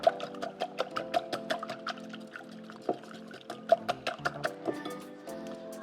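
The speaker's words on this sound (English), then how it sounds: "So I'll just whisk up the eggs." Eggs being whisked by hand in a bowl for a bread and butter pudding custard, giving a quick, steady run of light clicking strokes, close and moderately quiet, with a faint tonal background underneath.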